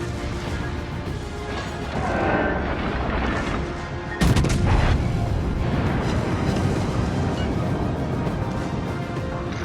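Naval guns of the warship Nassau in a video game fire in heavy rumbling volleys, a sharp loud blast striking midway and leaving a thick, sustained roar of battle.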